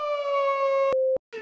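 A new Moog Etherwave theremin with delay and reverb plays a loud, steady sustained tone rich in overtones, then shifts to a pure pitch that cuts out abruptly before a brief wavering note resumes.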